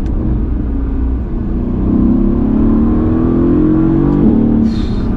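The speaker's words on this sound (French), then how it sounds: "j'ai levé la vitre et le bruit, écoute ça. Ce V8 est quand même assez exceptionnel" Mercedes-AMG V8 engine revs hard as the car accelerates, a loud deep continuous roar rising through the gears with a brief shift dip, heard from inside the cabin.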